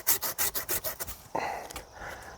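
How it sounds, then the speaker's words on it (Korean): A hand saw cutting through a tree branch, with quick rhythmic back-and-forth rasping strokes up close, followed by a rougher grinding push as the cut slows. "이제 희생지를 자르면서"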